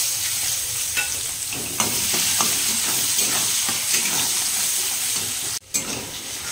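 Chopped onion sizzles and hisses steadily in hot oil tempered with whole cumin, dried red chilli and bay leaf, with scattered spatula scrapes and clinks against the pan, close and continuous, with one brief dropout near the end.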